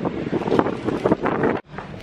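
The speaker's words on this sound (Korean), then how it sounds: "바람이 불어서 그런 건가?" Wind blows outdoors in a seaside town in southern Spain, a loud, gusty roar buffeting the microphone with fluctuating bursts before dropping out abruptly near the end, then resuming.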